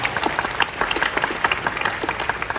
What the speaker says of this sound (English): Please clap for